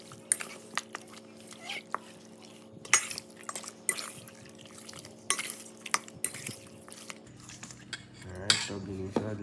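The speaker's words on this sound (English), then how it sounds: "so I'm gonna mix it up, see what go on" A utensil scrapes and clinks against a pot as curry is stirred into coconut curry chicken, with repeated close metallic knocks and scrapes over a low steady hum.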